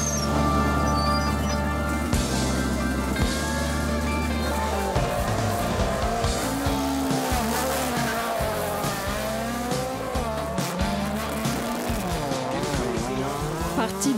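Classic rally sports cars race at a Tour de Corse historic gathering in Corsica, with engines revving and tires squealing in a dense, continuous roar.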